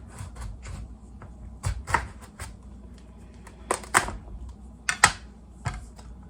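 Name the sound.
sharp knife cutting a pumpkin in half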